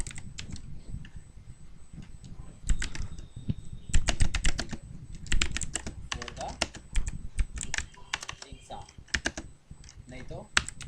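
Typing on a computer keyboard while working in Excel, quick irregular bursts of clicky keystrokes close to the microphone, with a voice talking underneath.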